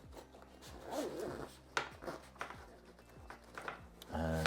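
A YKK zip on a Bellroy Venture Sling bag is pulled open in several quick ratcheting strokes, close and crisp, with short pauses between pulls and a brief rustle of fabric at the end.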